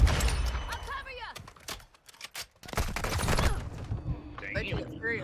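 A burst of rapid gunfire in Call of Duty with sharp cracks and clatter, then a brief lull before more shots, mixed with people talking over the action.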